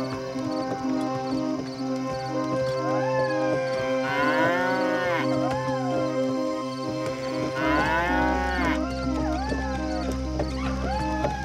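Cattle pulling a bullock cart give a lowing moo over a steady bed of music, with further drawn-out calls in the middle and later part. No one speaks.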